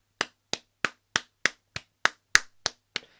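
A single person claps hands about ten times in a steady, even rhythm, each clap crisp, close and alone against silence.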